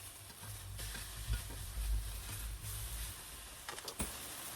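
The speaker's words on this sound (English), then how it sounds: "So it's been cooking for 3 minutes on one side. Let's flip it." French toast sizzles steadily in a hot pan, a constant close frying hiss with a low hum beneath, broken by a few soft scrapes and a flip near the end; no talking.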